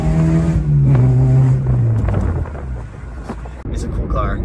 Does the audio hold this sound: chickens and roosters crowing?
no